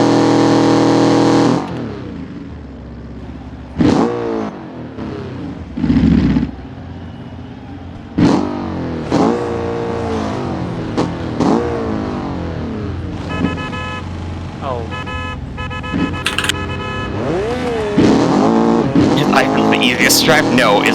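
Race car engines rev and whine through rising and falling gear changes in a GTC race at Bathurst in a racing game, loud and continuous, with someone talking over them.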